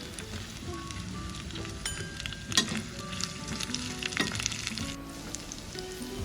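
Curry leaves sizzle and crackle in hot oil for pongal, a steady close frying hiss with a few sharper pops and light stirring scrapes, no voices.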